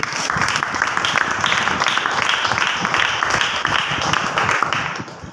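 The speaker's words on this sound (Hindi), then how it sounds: "आप ताली बजा सकते हैं?" A church congregation claps together in a steady, loud burst of many hands, continuous for about five seconds with a faint murmur of voices underneath.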